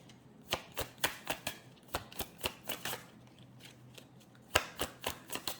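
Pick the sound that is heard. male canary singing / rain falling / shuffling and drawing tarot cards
shuffling and drawing tarot cards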